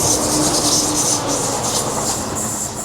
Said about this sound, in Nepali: यहाँको ट्रेन पनि स्पिडै कुद्दो रहेछ